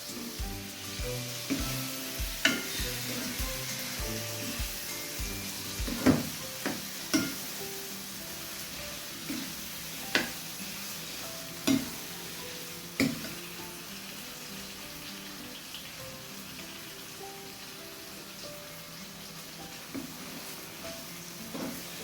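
Green capsicum and tomato stir-fry in a hot pan, giving a steady sizzle broken by repeated sharp scrapes and clacks of stirring at an irregular pace.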